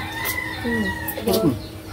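A chicken clucks and crows close by in a few short bursts, with a voice or background murmur underneath.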